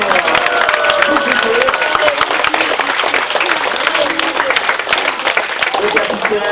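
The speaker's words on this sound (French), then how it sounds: "Vraiment qu'on peut déjà applaudir bien fort" Passengers on a Paris river cruise boat clap loudly together, with dense, sustained applause mixed with cheering and voices throughout.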